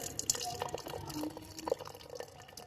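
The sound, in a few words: hot kahwa green tea poured into a cup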